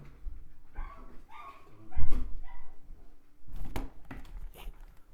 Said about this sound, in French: j'ai le chien qui aboie comme par hasard